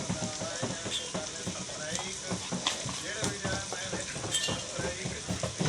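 Korma masala with turmeric frying in a pot, a dense continuous sizzle with repeated spoon taps and scrapes while stirring, close and busy.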